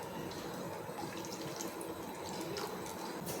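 Water poured into a pan while cooking moriya (barnyard millet) khichdi, a steady splashing, trickling stream running close and continuous with no talk.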